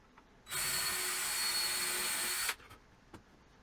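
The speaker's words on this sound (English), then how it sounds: "drive the screw in the second location" A power drill drives a screw into an IKEA Bekvam step stool, a single steady whir lasting about two seconds at close range, followed by quiet with a couple of faint knocks.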